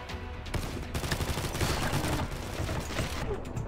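Rapid gunfire bursts from the online shooter game Combat Master, dense, loud and continuous, with overlapping shots and game effects throughout.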